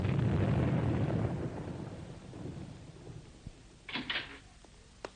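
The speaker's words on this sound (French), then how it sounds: "Dis-moi, Jo, est-ce que tu n'as pas l'impression que le bruit des canons se rapproche?" Distant cannon fire rumbles low and heavy, fading over a couple of seconds, followed by a short sharp thud and quieter knocks.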